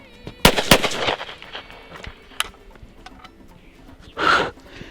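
A .410 shotgun fires a single shell loaded with Alliant 410 or W296 powder, a sharp loud report near the start followed by a second blast, then quieter handling noises and a brief hissing burst near the end.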